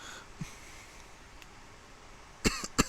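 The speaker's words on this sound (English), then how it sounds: "I'm going to stop apologising for coughing now as well, because you know by now I'm suffering from hay fever" A man with hay fever gives a quick, close double cough near the end, after a faint throat noise earlier over a quiet background.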